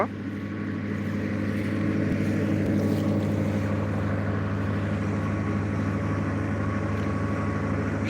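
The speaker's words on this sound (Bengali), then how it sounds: "সামনে দেখছেন একটি নৌকা বাইক নিয়ে যাচ্ছে" A motor boat carrying a motorbike across the Brahmaputra river, its engine droning steadily and loudly throughout, with a constant low hum and a broad wash of water and wind noise.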